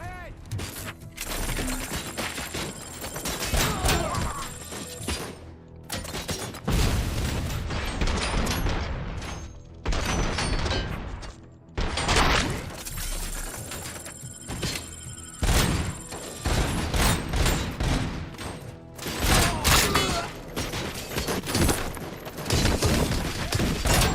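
Automatic gunfire from RoboCop's gun in RoboCop Rogue City, loud repeated bursts and thudding shots in long rapid volleys with short pauses between them, with clanking impacts and mechanical noises mixed in.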